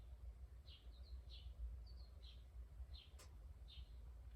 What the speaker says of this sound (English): Hear the birds chirping in the background.